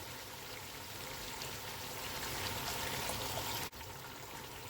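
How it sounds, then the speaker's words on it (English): Lemon juice and yogurt poured into a pot of vegetable biryani, a steady soft wet pouring and trickling wash lasting several seconds, fairly faint, ending with a brief clunk. "I'm going to add in the juice of 1 lemon and 500 grams of yogurt"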